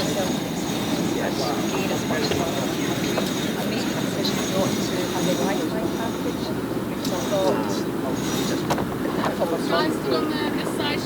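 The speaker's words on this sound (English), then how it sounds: "So I believe we're hoisting this mainsail so we can move under wind." Steady wind rush and water noise aboard a Clipper Round the World racing yacht in Oban as the mainsail is hoisted under wind, a constant close wash with faint rigging clatter and people talking throughout.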